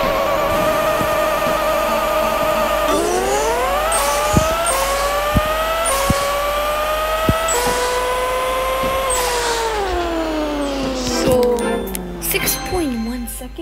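Toyota Prius tuned to 3000 hp drag racing in a video game, its engine whining loudly and shifting up in repeated rising pitch sweeps, with brief clicks at each gear change and a voice talking over it.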